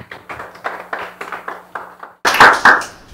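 An audience at a Korea University startup pitch event breaks into a short burst of applause, loud and dense for about a second, after several soft evenly spaced taps.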